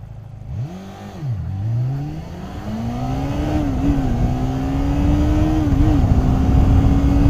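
A cruiser motorcycle idles at a traffic light, then its engine note climbs and wavers as it revs and pulls away. The steady, close, droning rumble grows louder under road wind.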